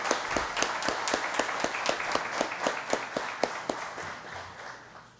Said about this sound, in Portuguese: Salva de palmas para o mestre Marcos